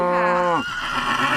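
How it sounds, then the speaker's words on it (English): Sound-effect horse neigh: a loud, close whinny that trembles and falls in pitch before trailing off into a breathy snort, lasting just over half a second. "a horse."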